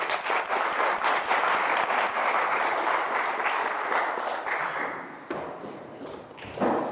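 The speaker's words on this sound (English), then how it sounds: "Give me a round of applause." A crowd gathered for a street hypnosis show gives a loud, dense round of applause that carries on for several seconds, then thins out into scattered claps and tapers down.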